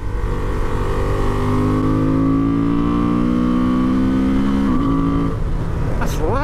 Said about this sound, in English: Listen to that engine when you start to really load it.